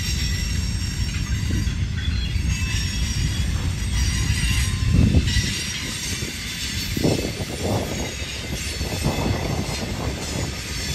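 A CSX manifest freight train from Toledo swings onto the former B&O mainline heading west, with steady rumbling rail cars, rolling wheel noise and intermittent squeals, sustained and fairly close throughout.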